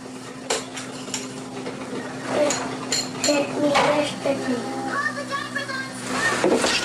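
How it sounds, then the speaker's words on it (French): Dishes, pots and cutlery clink and clatter close by during dishwashing in a Québec home, with irregular knocks and chimes scattered through, while people talk over it. "pendant que moi je fais la vaisselle"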